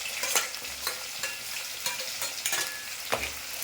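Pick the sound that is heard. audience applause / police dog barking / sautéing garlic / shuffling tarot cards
sautéing garlic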